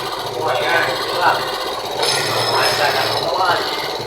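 A Suzuki Smash 115 motorcycle with a high idle that will not adjust down runs steadily nearby, its loud, even engine drone filling the space while someone talks over it.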